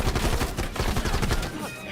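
Rapid semi-automatic gunfire in Call of Duty, a close, loud burst of repeated shots for about a second and a half before tapering off.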